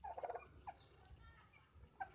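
Turkeys on a turkey farm in India give faint, short gobbling bursts: a rapid warbling run at the start, a single call midway and another near the end, with quiet low background noise between.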